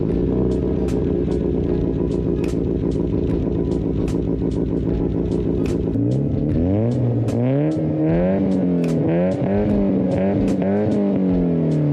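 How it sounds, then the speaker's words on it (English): A Mazda Miata NA engine with an aftermarket exhaust idles with a deep, rough burble, then is blipped repeatedly, each rev rising and falling sharply in loud, close succession. "I could put some revving clips in here."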